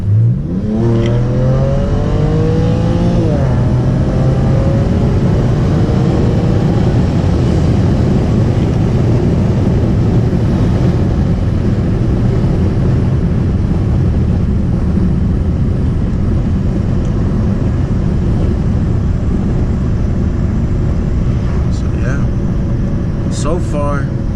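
BMW 335i with MHD Stage 2+ tune launched at full throttle in sport mode: loud engine note climbing steadily through a long sustained pull, heard from inside the car with a rushing, droning roar, with a brief shift at the start.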